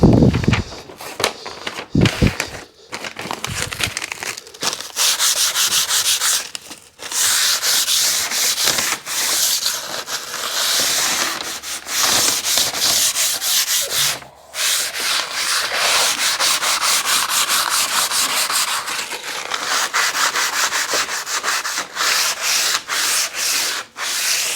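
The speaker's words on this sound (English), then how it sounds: "I'm not going to subject you to, I don't know, 1-2 hours of me sanding" Long stretch of sanding on a semi truck being prepped for primer and black paint in a garage, a steady abrasive rasping with brief pauses and bumps, loud and close, no talking.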